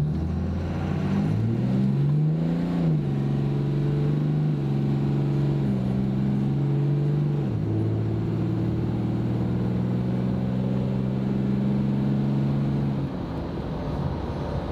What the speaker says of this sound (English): this is a full throttle acceleration with the 68RE